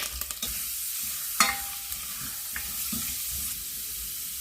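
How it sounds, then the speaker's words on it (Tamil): Two teaspoons of washed chana dal tip into hot oil in a pan and are stirred, giving a steady close sizzle with scraping spoon strokes and one sharp clink early on. "ரெண்டு மீசக்கரண்டி கடலைப்பருப்பு கழுவி வச்சுருக்குறேன் அதையும் போடுறேன்"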